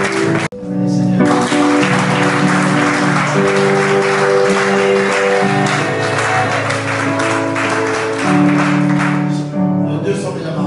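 A church congregation applauds steadily through a wedding celebration, the clapping sustained and fairly loud over music and singing voices.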